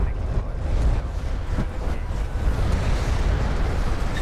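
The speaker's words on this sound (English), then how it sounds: "It looks like he's just firing a barrage over on the economy" Barrage fire and explosions roll on continuously in Homeworld: Deserts of Kharak, a dense, rumbling low-heavy wash with faint crackling bursts, loud and steady without distinct gaps.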